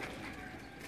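Sialkoti pigeons, gifted birds kept by a pigeon fancier in Sialkot, coo softly and steadily at close range in a brief continuous murmur with no talk over it.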